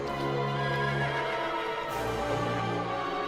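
A horse in Twilight Princess gives a loud, close whinny lasting a few seconds, followed by a second neigh, with faint hoof clip-clop and game ambience beneath.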